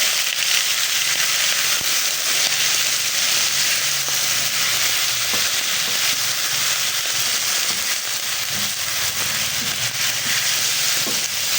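Chicken wings browning in a pan give off a continuous hiss and crackle of frying, close and steady, with a few sharper pops and faint clinks, and no talking.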